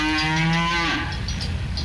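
A cow lets out one loud, close moo that slides upward and fades into a breathy end, heard alone with no talk.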